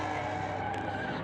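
A drift car in Arizona sliding with its tires squealing against the pavement over the roar of the engine, one sustained loud screech lasting about a second.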